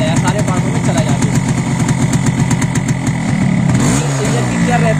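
Yamaha RX135 5-speed 2021 motorcycle engine running at a steady idle after warm-up, a loud, close, continuous throbbing with a slight change in pitch near the end.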